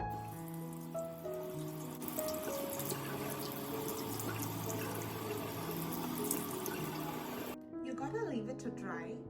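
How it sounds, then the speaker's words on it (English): Warm tap water runs steadily over eyeglasses being rinsed of sprayed baby shampoo, a continuous hiss beneath music, cutting off near the end. "You gotta wash this away in warm water."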